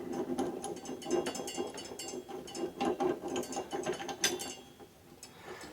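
Crank puller tool being threaded into a vintage bicycle crank arm, giving a steady run of small metallic ratcheting clicks that repeat quickly and closely throughout, at moderate level with no talking.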